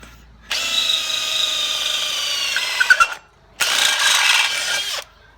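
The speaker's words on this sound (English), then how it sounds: "I can go through that steel faster than you can go through timber because I've sharpened this drill bit" A freshly sharpened drill bit bores through structural steel at high speed, giving a steady, loud whirring grind for about two and a half seconds. A short pause follows, then a second burst of drilling.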